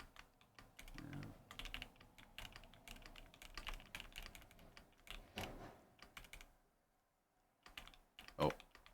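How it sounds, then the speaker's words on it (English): Computer keyboard typing during an online game coaching session, a steady run of quick clicks and keystrokes with brief pauses, close to the microphone, with a short louder burst near the end. "let me know if you hear like too much of my keyboard in Discord"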